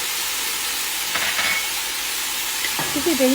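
Crushed garlic and hot pepper frying in a pan, a steady hiss of sizzling oil with a couple of stirring clicks, and a short spoken word near the end.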